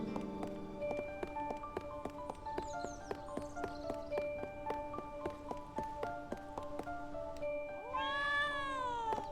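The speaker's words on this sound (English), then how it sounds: "That's a really large cat, by the way." A large cat meows in the Trials of Mana remake, a drawn-out rising call near the end over steady game music and melodic tones.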